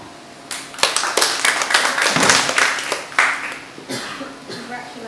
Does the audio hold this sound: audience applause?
yes